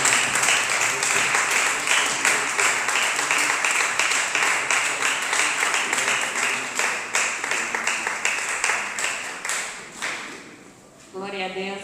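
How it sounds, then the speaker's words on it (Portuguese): A church congregation claps in steady, rhythmic unison for a visiting woman preacher, loud and sustained for about ten seconds before breaking off as a voice begins. "Acolhemos com as palmas em nome de Jesus"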